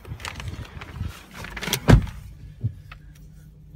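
A short electric whir of a 2015 Jeep Compass power window motor inside a quiet cabin, with a soft clunk partway through and light clicks after.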